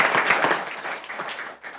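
A city council meeting audience claps in a short, dense burst of applause that fades out after a couple of seconds.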